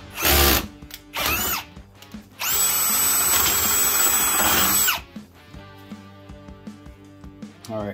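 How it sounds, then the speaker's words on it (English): Ryobi One+ HP PBLDD01 cordless drill boring through material: loud close whirring bursts, two short spins followed by a sustained high-pitched drilling run of about two and a half seconds, then quiet clicks and handling noise. "Okay, so we'll drill that through."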